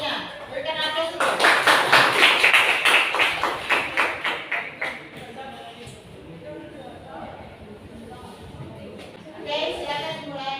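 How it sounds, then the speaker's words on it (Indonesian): A classroom group applauds after a group presentation: a dense burst of many hands clapping swells quickly, then thins into a few scattered claps and dies away after about four seconds, with people talking quietly afterward. "Nilai presentasinya berikan aplaus dulu."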